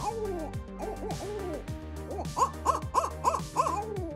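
A large owl hoots repeatedly, giving a series of rising and falling calls that grow into a steady run of five evenly spaced hoots, clear and close, with no talk.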